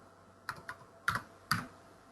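Four quick keystrokes on a computer keyboard clack close and distinct in an uneven burst, the last two sharper, as a database command is typed in a quiet room.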